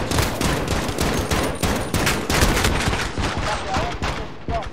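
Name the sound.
enemy sentry gun firing in Call of Duty: Modern Warfare video game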